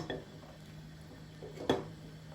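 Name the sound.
eggs being put into a pot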